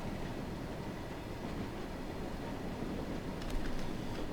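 A Class 31 diesel locomotive in Train Sim World 2 runs steadily on light power at moderate speed, with a continuous rumble and rail noise and faint clicks near the end, without talk.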